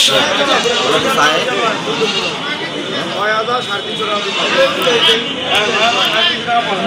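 Goats bleat repeatedly at a crowded rural livestock market. Their cries mix with constant voices of people talking nearby, loud and close.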